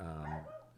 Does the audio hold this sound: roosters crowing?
no